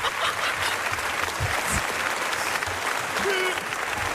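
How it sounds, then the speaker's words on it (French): An audience at a live show in Metz applauds, a continuous even wash of clapping that holds steady and fairly loud throughout. "on peut l'applaudir"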